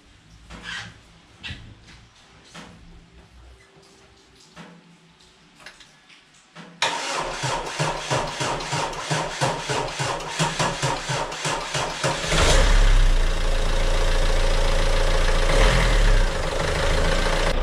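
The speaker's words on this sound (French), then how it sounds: "Donc je mets une batterie là et on fait une tentative de démarrage." A Renault Megane 2 Cabriolet with a 1.9 dCi diesel and a failing starter runs off a swapped-in battery. It cranks with a quick rhythmic grind, catches, and falls into a loud, steady diesel idle, with no talking.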